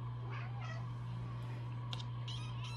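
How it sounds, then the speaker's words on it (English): Tiny baby kittens give a few short, high meows over a steady low hum, fairly close and clear, spaced out across the moment. "We got tiny baby cats."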